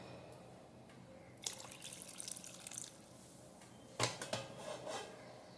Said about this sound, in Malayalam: കുറച്ചൊരു വെള്ളം ഒഴിച്ചു കൊടുക്കാം